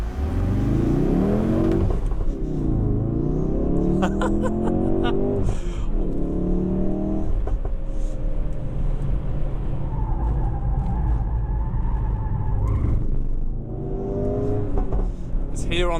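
A 2016 Ford Focus RS drives hard around the Circuit de Valencia racetrack, its engine revving up and down through gear changes with a loud, continuous rumble and a voice talking over it.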